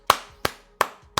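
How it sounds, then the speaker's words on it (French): Four sharp, close hand claps ring out one at a time at a slow, even pace, with quiet gaps between them. "Ah, bravo. J'applaudis."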